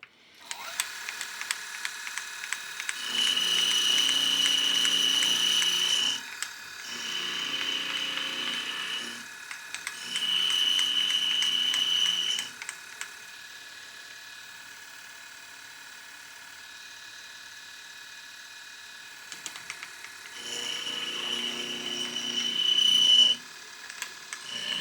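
A machine tool whines steadily while cutting a crosshead slide for a PM Research PM1 steam engine model, with several louder passes of a few seconds each over a constant motor hum and no talk.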